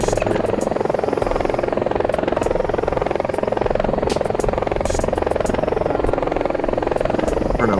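A loud electric helicopter drones steadily and close by, a continuous buzzing throb that fills the whole stretch without pause, with no talk over it.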